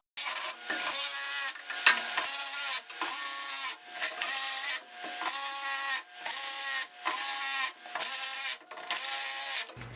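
Socket ratchet running bolts onto a Ford 8-inch axle, a series of about ten rapid clicking bursts in steady rhythm, close and crisp, with short pauses between each run and no talking.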